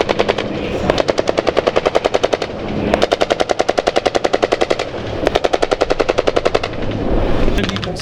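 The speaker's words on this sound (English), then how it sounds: "they're deploying into an assault formation, laying a smoke screen as they go and opening fire." Loud military machine-gun bursts ring out at close range during an infantry assault demonstration with a smoke screen at NATO Days, in several long rapid strings with brief pauses between them.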